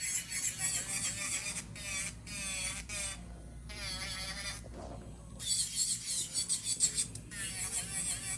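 An electric nail drill whirs steadily with a high, shifting whine and raspy grinding as it smooths acrylic nails, close and continuous with brief pauses.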